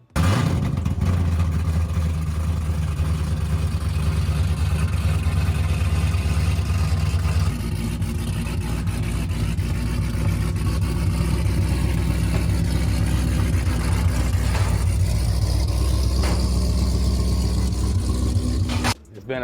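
A Hellcat-swapped Dodge hot rod engine rumbles loud and close, rough and lopey at idle with some revving and rattly clatter. The note changes partway through and then holds steady.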